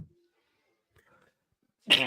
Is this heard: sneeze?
yes